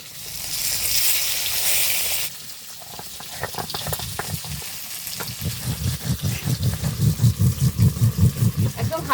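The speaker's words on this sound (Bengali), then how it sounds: "মাছগুলো ভাজা হতে থাকুক" Kaikoi and parshe fish fry in hot oil in a pan, with a steady, bubbling sizzle that grows louder and more rhythmic toward the end, close to the listener. A loud hissing wash is heard at the start.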